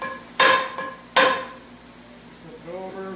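A hammer taps a metal part twice with sharp, ringing strikes a moment apart, a lighter knock between them, followed by quieter clinks and faint rustling nearby.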